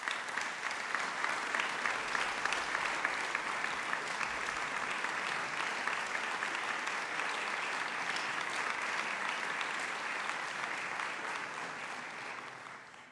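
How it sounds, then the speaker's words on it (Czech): A concert hall audience applauds warmly and steadily, dense even clapping from a large crowd that holds for several seconds before fading slightly at the end. "potlesk."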